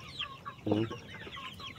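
Chickens cluck and chatter nearby in short bursts, with one louder, throatier call standing out near the middle.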